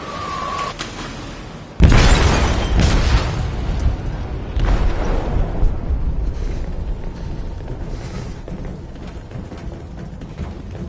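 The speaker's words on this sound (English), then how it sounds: "They detonated an explosive in the hold" An explosive detonates in a ship's hold in Detroit: Become Human, a sudden loud boom after a brief quiet lead-in, followed by a long rumbling, crackling roar that slowly settles.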